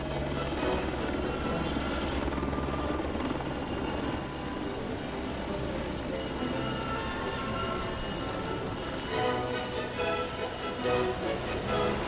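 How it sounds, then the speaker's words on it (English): Helicopters flying formation aerobatics at an air display produce a continuous loud rotor and engine drone that swells slightly and never pauses. "Helicopters too perform formation aerobatics."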